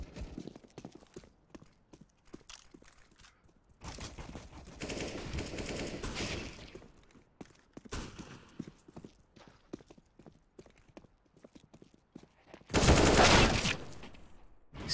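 Video game gunfire during a multiplayer fight, rapid clattering bursts of shots mixed with hoof-like clip-clops, loud near the end, no talking.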